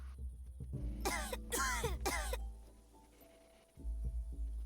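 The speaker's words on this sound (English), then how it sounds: "you really should get that cough looked at" A game character's cough from 3 Minutes to Midnight: a few harsh, raspy bursts in quick succession near the start, close and loud over a steady low hum of background music.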